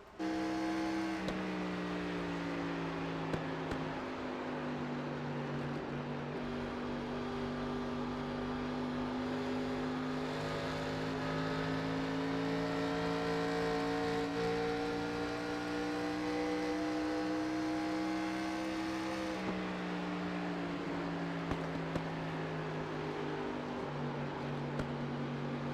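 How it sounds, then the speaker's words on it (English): A race car engine during an onboard lap at Homestead-Miami, holding a steady loud drone as it accelerates and lifts, with faint crackles and pops from the exhaust. No one speaks. "You heard the crackles. You heard the pops out of the exhaust."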